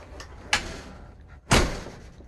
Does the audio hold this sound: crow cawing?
no